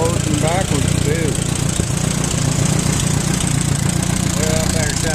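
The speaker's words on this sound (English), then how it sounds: "I better shut it off before I blow it up" An Allis Chalmers IB tractor engine idles steadily nearby with a rough, even drone, while birds chirp faintly in the background.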